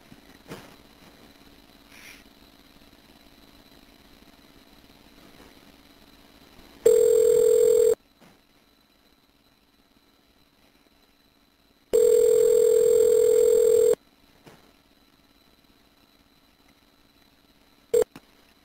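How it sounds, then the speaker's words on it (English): A prison payphone call placed through a calling-card system at a correctional facility: after a quiet hiss, two loud, steady electronic ringback tones sound about four seconds apart, each lasting roughly a second, followed by a brief final blip. "The number is now being dialed."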